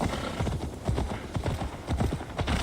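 Horse hooves clip-clop at a steady walking rhythm in the Assassin's Creed Valhalla video game, close and fairly loud, with a faint snort or whinny mixed in.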